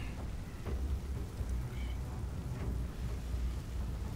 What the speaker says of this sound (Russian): И начался шторм.